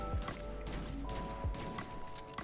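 Rapid weapon fire from the Supremacy in a video game, a magazine emptied in a few sharp bursts over steady game ambience, with no talk.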